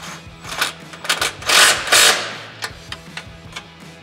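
A ratchet tightens exhaust clamps on a Jeep Wrangler JL 3.6L four-door fitted with a Pypes high-clearance cat-back exhaust, giving close, irregular clicking bursts with a couple of louder, longer rasps in the middle.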